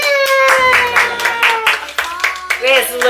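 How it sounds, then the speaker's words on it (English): Hands clapping at a birthday party in New Orleans right after the birthday song, mixed with cheering and overlapping voices of the guests throughout. "Get a clap for you"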